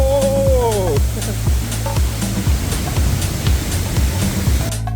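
A waterfall's broad, steady rushing roar runs throughout, close and loud, on a trail in the Philippines, with a few faint other sounds mixed in.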